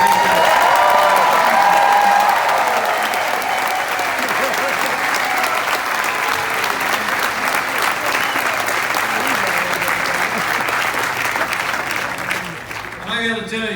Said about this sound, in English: how about a big round of applause for the whole Bollinger family